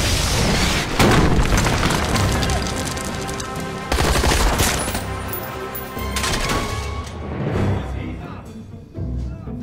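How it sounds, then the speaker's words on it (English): Loud bursts of automatic gunfire and rocket launcher blasts in a Gotham TV action scene, with heavy booms and rapid rattling shots that come in waves. "Rocket launcher?"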